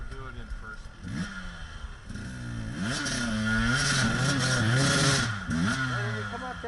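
A motorcycle engine revs in first gear on a ranch hill trail, rising and falling through several pulls, close and loud, with people talking over it throughout.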